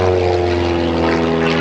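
An aerobatic propeller airplane performing at the 2010 New Garden Airshow gives a loud, close, steady engine drone with a rough buzzing propeller tone. The burst is brief and unbroken.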